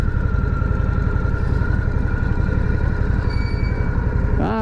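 A Harley-Davidson motorcycle engine runs steadily close by, and a brief squeaky front brake squeal, from a long-unused brake, rises at the very end.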